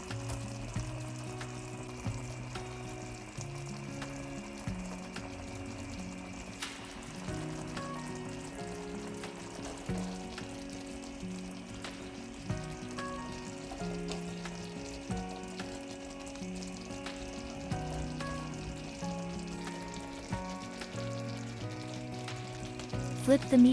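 Meatballs frying and simmering in a tomato sauce in a pan, a steady close sizzle and bubbling with occasional stirring sounds running throughout, loud and continuous with no talking.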